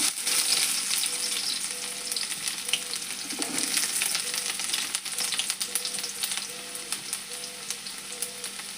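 Mustard seeds and chopped onion fry in hot oil, giving a loud, continuous sizzle scattered with sharp spluttering crackles, close up and unbroken, with no one speaking.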